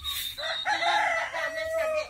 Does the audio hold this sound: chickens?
yes